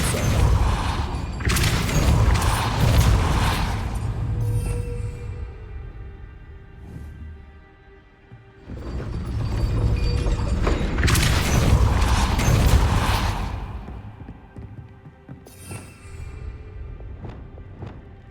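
Depulso, a force-push spell in Hogwarts Legacy, is cast in two loud bursts, each a rushing whoosh with a heavy thump and mechanical rumble, separated by a quieter gap with faint footsteps.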